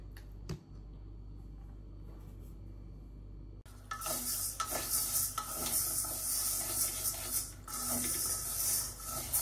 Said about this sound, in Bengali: আর রান্না করব মুগ ডালটা ভেজে নেই।